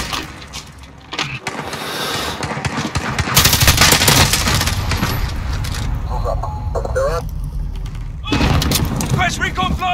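Gunfire in Call of Duty: Modern Warfare (2019), with dense bursts of shots and explosive impacts layered over game voice callouts and radio chatter, loud and continuous across the whole stretch.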